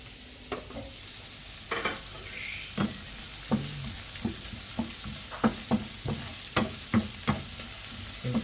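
Ginger, garlic and onion sautéing in a frying pan with a reduced amount of oil, a steady soft sizzle broken by a series of sharp spatula taps and scrapes, close and alone.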